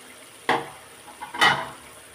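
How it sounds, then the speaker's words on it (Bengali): Spice masala being stirred in a pot for a chicken and new potato curry, two distinct scraping sweeps about a second apart over a quiet low background, close and moderately loud. "মশলাটা এখন আবার আমি একটু নেড়ে নেব।"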